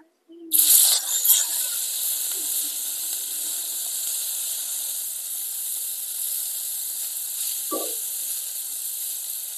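Mahurali fish frying in oil on a tava gives a steady, loud, bright sizzle that starts abruptly and holds evenly, with a brief clatter near the start and a soft knock late on.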